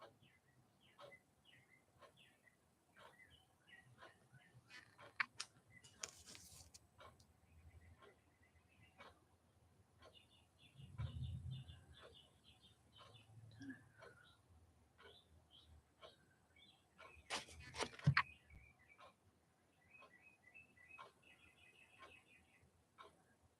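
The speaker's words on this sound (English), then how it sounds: "You guys hear the birds? They're so happy." Birds chirping outdoors after rain, with faint repeated tweets and short calls scattered throughout, distant and soft, with occasional rustles and clicks from someone working on a crochet project nearby.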